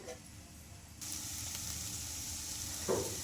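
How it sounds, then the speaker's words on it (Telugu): Potatoes being stirred into a hot pan and frying, a soft steady sizzle that grows louder partway through, with a brief scrape of stirring near the end. "ఇంకా ఈ ఆలు కూడా వేసేసుకొని బాగా కలిపేసుకుందామండి"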